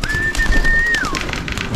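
A pigeon or dove gives one clear drawn-out whistling coo that slides downward at the end, close and fairly loud, over scuffling background noise as birds are released to fly out at dusk.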